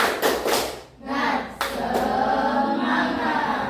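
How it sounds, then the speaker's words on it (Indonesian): A school class claps a rhythmic spirit clap in quick groups of loud close claps with pauses between them, and children's voices chant along. "biar lebih semangatnya kita buat tepuk semangat terlebih dahulu"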